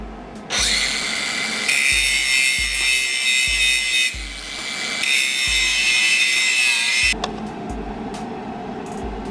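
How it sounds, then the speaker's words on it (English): A hand grinder grinds down a metal engine tensioner arm on a 1JZ-swapped FRS for wheel clearance, a loud continuous high whine that rises and dips as it bites, then cuts off sharply. "Not a huge deal, just take a grinder to it and give it some clearance."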